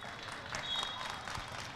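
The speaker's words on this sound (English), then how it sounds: "Let's give her a big round of applause, crowd" Audience applause at an archery tournament finals, a steady wash of clapping from a crowd filling the room for under two seconds, moderately distant and fairly even in loudness.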